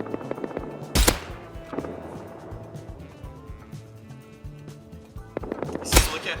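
L9 rifle gunshots in a video game, two sharp loud bangs about five seconds apart over a low rumbling game background.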